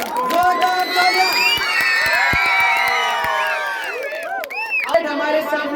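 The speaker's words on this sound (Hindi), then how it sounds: "जोरदार तालियां।" A school audience applauds and cheers loudly after an election result is announced for a student secretary post, with dense clapping, whoops and children's shouts filling the room steadily throughout.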